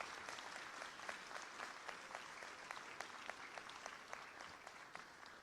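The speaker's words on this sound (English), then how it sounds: "Please give a big round of applause to AT&T and CompuDopt." An audience at a laptop giveaway in Center Point, Texas, applauds the donors AT&T and CompuDopt, a sustained round of clapping that sounds distant and soft, with no voices over it.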